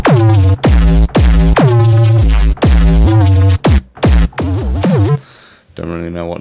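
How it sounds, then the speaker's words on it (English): Distorted, wide neuro reese bass synth built in Ableton Operator, playing a series of separate sustained notes with pitch bends and short gaps, loud and upfront, ending in a brief noisy tail. "It's like a really distorted, wide sounding reese."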